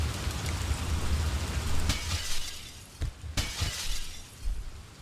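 Glass shattering in a video game, a sharp crash near the two-second mark and another just past three seconds, ringing over steady low rumbling game noise with no talk.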